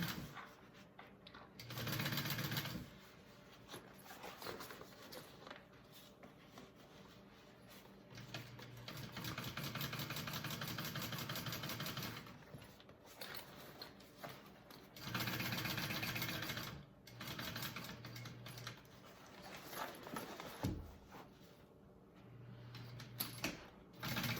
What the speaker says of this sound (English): I'm making sure my lining is out of the way as I'm top stitching.